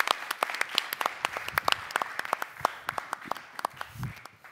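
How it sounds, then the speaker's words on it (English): Audience at an electronics and lighting conference applauds to welcome the moderator, a fairly sparse, crisp round of individual claps with a few sharp loud ones, fading slightly toward the end. "A round of applause."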